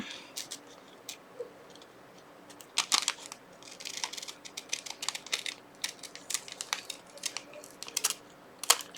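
Crisp snipping and crinkling as scissors cut through a thin plastic bag, irregular little cuts and rustles close by, fairly quiet with short pauses between bursts.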